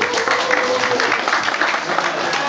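An audience applauds during the awards ceremony of a Ukrainian aquabike championship as the junior ski division class is called up. The clapping is fairly distant and continuous, with some crowd murmur underneath.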